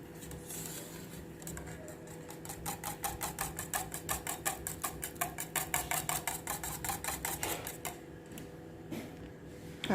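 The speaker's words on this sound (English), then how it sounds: "we're just going to add about 2 tablespoons of soy sauce and continue to mix until everything is incorporated" Honey BBQ pork marinade with about two tablespoons of soy sauce being mixed, giving a fast, steady run of rhythmic clicking and tapping strokes that swell in the middle and fade toward the end, close and moderately loud with no talk.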